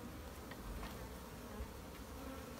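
Honeybees in a newly installed hive give off a soft, steady swarming buzz, faint and continuous without breaks.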